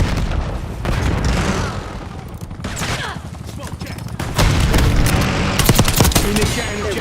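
Frag grenade blast in Black Ops 6 multiplayer on a Domination match, a booming burst amid dense ongoing gunfire and battle noise, with radio-style voice callouts over the top.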